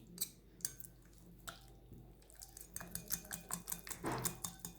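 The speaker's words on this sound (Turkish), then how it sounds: "Havucumuz soğurken yoğurtlarımızı karıştıralım." Spoon stirring strained yogurt in a bowl: quiet, irregular clinks and scrapes of metal against the dish, growing busier toward the end, with faint soft mixing sounds and no voices.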